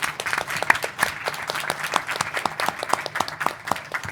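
Audience applauding panelists at a land restoration investment event, a steady, dense patter of many hands clapping for several seconds in a hall.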